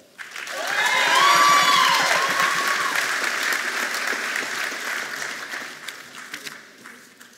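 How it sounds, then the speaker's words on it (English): A graduation commencement crowd breaks into broad, sustained applause that swells quickly, peaks, then gradually thins out, with some faint cheering mixed in. "A round of applause from all sides."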